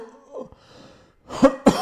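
A person gives two short, sharp coughs near the end after a quiet throat sound, heard close and alone.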